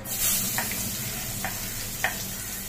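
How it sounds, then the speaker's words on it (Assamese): Onions sizzle steadily in hot oil with cumin, cloves, cardamom and cinnamon, a constant crackling hiss broken by a few soft clicks of a spoon against the pan. "এয়া মই পিঁয়াজখিনি ভালদৰে ভাজি ল'লোঁ"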